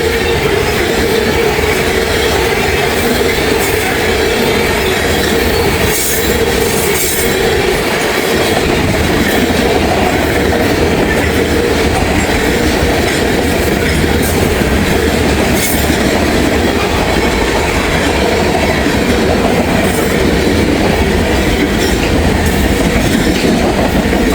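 A freight train hauling ethanol tank cars rolls past in Walton and Richwood, Kentucky, with a loud, steady rumble and wheel clatter that continues throughout without letup.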